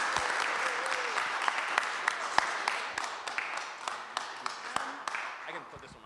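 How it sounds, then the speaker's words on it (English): A poetry-reading audience in Grand Rapids breaks into warm, sustained applause, dense overlapping claps with a few sharper ones standing out, fairly close and steady before tapering off, with brief voices mixed in. "a very, very, very warm Grand Rapids round of applause for Sonya"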